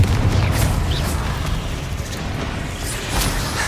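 A Confringo spell explosion in Hogwarts Legacy, with a deep booming burst at the start that rumbles and fades over a few seconds amid ongoing combat noise, close and fairly loud.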